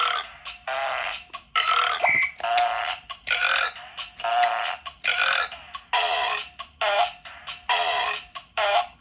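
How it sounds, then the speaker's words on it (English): A handheld electronic Furpinator game plays a rapid run of short synthetic fart and burp noises, separated by brief gaps, loud and close with no talking. "So, fart, fart, fart, fart. Burp."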